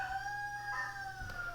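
A rooster crows faintly in the distance beneath a steady electronic hum and tones, a brief call with no speech.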